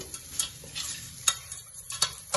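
Oil sizzles in a pan as ingredients fry for upma with chili powder, a soft hiss broken by several sharp scraping stirs of a spoon against the pan.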